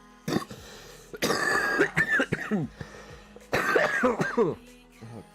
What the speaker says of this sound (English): I just coughed up blood right there